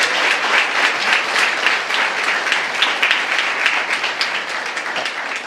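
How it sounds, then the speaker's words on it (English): Warm applause from the audience at a book discussion, a steady dense wash of clapping with no voices over it. "Let's give Xoli a warm round of an applause, ladies and gentlemen."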